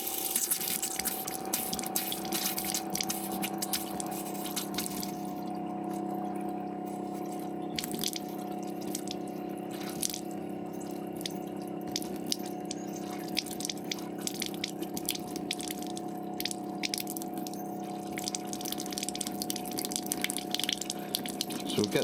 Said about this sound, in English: Let's drain the taps. There's water in the system still